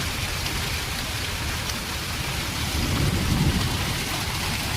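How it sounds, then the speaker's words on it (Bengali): Steady rain pours down outside during a power cut, joined by a low rumble of thunder that swells in the middle; a continuous, enveloping wash of sound with no voices. "এবার বৃষ্টিটা পড়ছে,"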